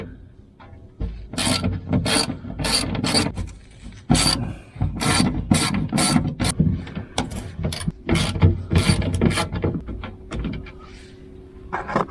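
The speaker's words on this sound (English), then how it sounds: "we'll put a wrench up there, break the nut loose, the bolt loose, and drain the oil" A wrench works loose the oil drain bolt on a Honda Pioneer 700-4 utility vehicle, giving close, repeated rasping, ratchet-like metal scrapes and clicks in uneven bursts, with no talking.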